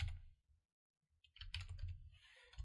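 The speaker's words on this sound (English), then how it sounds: "we're going to change grid lines every and type this number in" Computer keyboard keys clicked in short bursts to enter a number, close and fairly quiet, with a brief pause between clusters of taps.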